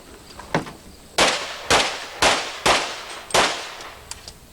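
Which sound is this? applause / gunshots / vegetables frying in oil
gunshots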